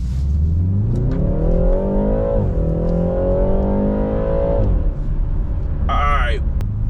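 A BMW 330i xDrive accelerates hard from a standstill, engine revving from low idle, pitch climbing steadily, dropping briefly at a gear change, then rising again before easing off.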